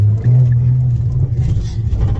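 A modified 2017 Nissan GT-R making about 850 wheel horsepower, in quiet exhaust mode, gives a short deep engine rev that rises and settles into a low rumble, close by, with brief talk near the end.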